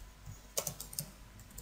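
Short burst of typing on a computer keyboard while entering an email subject, a few faint quick key clicks in a quiet room.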